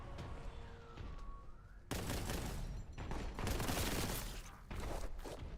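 Gunfire in the shooter game Warhammer 40,000: Boltgun comes in dense, loud bursts of rapid blasts, each volley lasting about a second, with short gaps between volleys.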